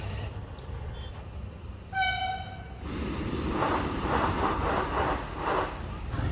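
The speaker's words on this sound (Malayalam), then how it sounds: "ആ പോയ ട്രെയിനിൻ്റെ പേരാണ് വന്ദേ ഭാരത്." A Vande Bharat train rumbles past a closed level crossing with a steady roar, a short two-note horn blast sounding partway through, then the rushing noise of carriages going by.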